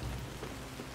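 Steady rain patters across surfaces in the survival game Soulmask, a dense, even hiss that continues for a short moment with no other sounds.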